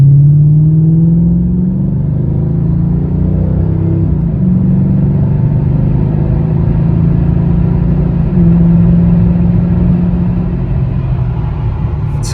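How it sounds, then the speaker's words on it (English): A Mercedes C32 or E55 AMG engine holds a steady, loud, droning rev at half throttle for the whole stretch, its pitch swelling and settling slightly, close up with no talking. "we'll do another half throttle here"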